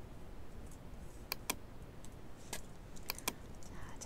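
Computer keyboard shortcut presses during Photoshop editing: several sharp, isolated key clicks spaced irregularly, faint and close over a quiet room hiss.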